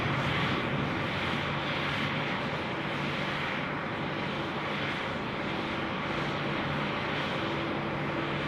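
An aircraft rolls for takeoff from runway 34 left at Sydney Airport, its engines a steady broad roar held at even loudness throughout, heard from a distance with no voices.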